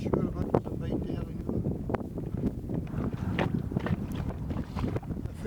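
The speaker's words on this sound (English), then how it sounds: "A fair breeze of wind getting up." Steady wind noise buffets a small dinghy anchored at sea in deep water on Loch Fyne, a continuous rough rumble against the microphone mixed with scattered knocks and bumps from the boat, fairly close and moderate in level.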